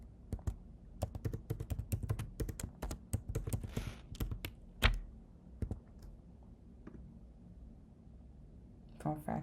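A password is typed on a computer keyboard in bursts of close, crisp key clicks, a quick run followed by scattered taps and a pause before a few more.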